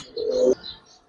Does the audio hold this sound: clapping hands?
no